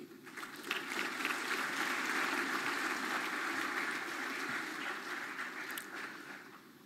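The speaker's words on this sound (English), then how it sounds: "we must have a big round of applause for all the duty holders for their hard work and dedication" Audience applause at a legal awareness and outreach campaign event, a faint, distant-sounding wash of clapping that swells and holds for several seconds before gradually thinning out.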